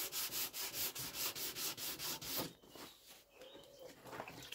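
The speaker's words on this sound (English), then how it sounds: "And basically, rub it down." Hand rubbing down car paint flat for a 2K respray, wet-sanding in steady back-and-forth strokes about a dozen times, close and fairly quiet, then giving way to softer, irregular scuffing.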